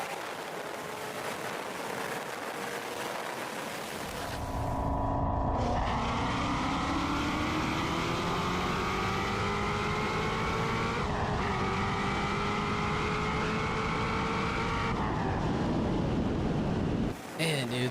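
A C6 ZR1 Corvette engine roars loud and close, building from a rough idle into a long, sustained high-revving pull as the pitch climbs, dipping briefly at a shift before cutting off near the end, with some talk underneath.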